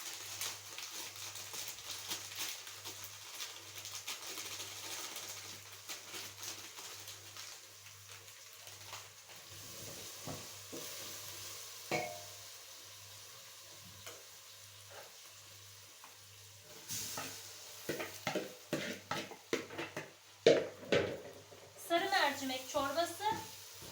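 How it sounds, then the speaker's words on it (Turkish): Schnitzels sizzle and crackle in a hot pan, steady frying with occasional clinks and stirring noises growing busier toward the end. "Daha doğrusu şinitlerleri kızartacağım."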